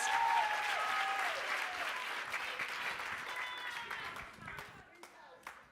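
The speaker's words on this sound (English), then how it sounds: "Can you just embrace them with some applause?" Conference attendees give warm applause for visiting activists and scholars. The clapping starts strong and gradually thins into scattered claps, with voices audible underneath.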